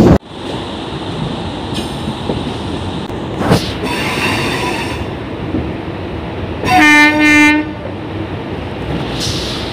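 A Howrah–Haldia local train pulls out of a station, with steady rumbling wheels and carriage noise throughout, a short sharp clang and a loud horn blast lasting about a second near the end.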